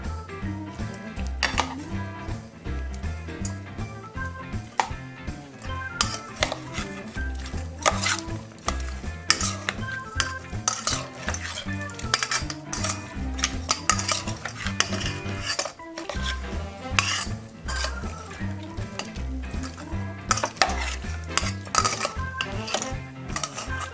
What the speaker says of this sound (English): we're going to go ahead and stir this all up